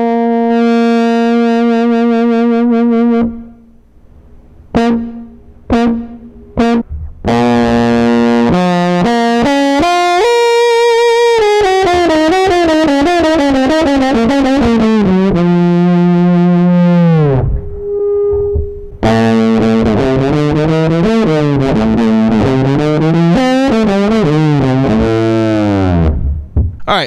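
Trombone run through a Big Muff fuzz pedal, heavily distorted sustained notes and slides with short stabs and pauses, loud, buzzy and close, with no talking.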